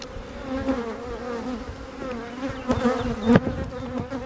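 Honeybees buzzing around a beehive, a close dense hum with individual bees droning past and louder passes near the microphone.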